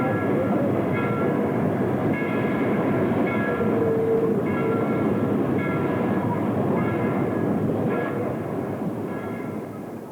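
A Virginian passenger train No. 4 hauled by PA diesel locomotive No. 215 crosses the South Branch Bridge in 1949. It makes a loud, steady rolling rumble with intermittent tonal horn-like notes, easing slightly toward the end.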